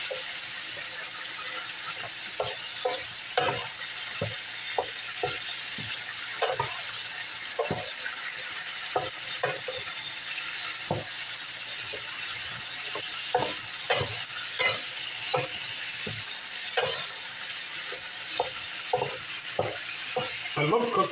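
Chicken fried rice frying in a skillet gives a steady loud sizzle throughout, punctuated by frequent stirring scrapes and clicks of a utensil against the pan.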